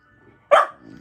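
Labrador puppy giving a single sharp, close bark in a quiet room, followed by a low soft rumble.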